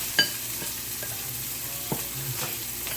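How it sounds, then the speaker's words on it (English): Garlic and onions sizzling in a pot with seared rabbit pieces for a stew, a steady soft frying hiss close by, punctuated by a few clinks and scrapes of a stirring utensil. "next we are going to add our garlic and onions"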